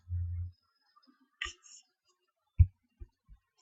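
A few separate key clicks on a computer keyboard, tapped singly with gaps of silence between them, close and fairly quiet.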